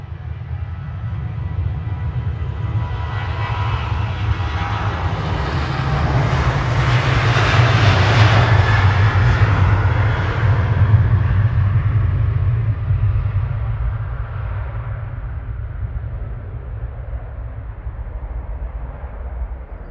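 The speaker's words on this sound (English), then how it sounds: "The engines have started, but I didn't see any smoke." Ethiopian Airbus A350-900 jet engines spooling up at Manchester Airport, a steady low roar with a rising hiss that swells midway and then slowly settles, heard from a distance.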